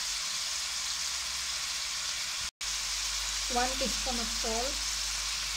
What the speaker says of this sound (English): slightly fry the beef in medium heat